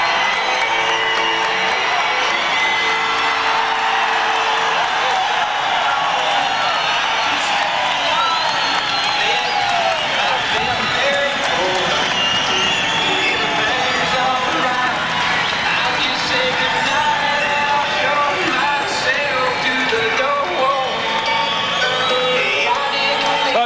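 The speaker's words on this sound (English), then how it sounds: "Todd Foster, and the crowd now recognizes him." Boxing crowd at an arena fight in Bozeman cheering and applauding a boxer, a dense continuous roar of voices and clapping with no breaks, loud and close throughout.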